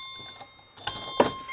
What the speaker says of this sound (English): there go my keys